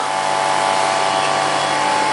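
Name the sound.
vacuum pump of meat tumbler starting to work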